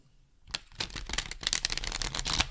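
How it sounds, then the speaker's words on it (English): An oversized Gentle Thrills tarot deck with stiff cards being shuffled by hand, producing a quick series of crisp papery riffling bursts, close and alone after a brief pause. "Gosh, that is so painful to shuffle."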